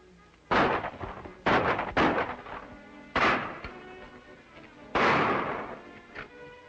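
Gunfire in a shootout from an old serial film: several loud, sharp bangs ring out at irregular intervals, with a last fainter shot near the end and no talk.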